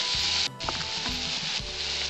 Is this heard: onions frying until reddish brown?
yes